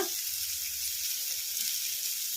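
Onions turned light brown, with a little turmeric, fry in a pan with a steady, dense sizzle, close and even throughout, no voices over it.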